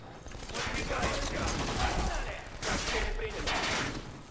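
An enemy fires a massive gun in the Xbox shooter Black at the Naszran Foundry stage, a continuous rapid burst of gunfire with rattling mechanical texture, briefly easing midway before resuming, while someone talks over it.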